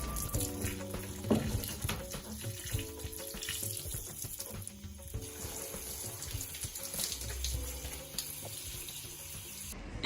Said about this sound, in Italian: Risciacquiamo.